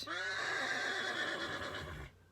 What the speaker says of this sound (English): one of the horses has been left behind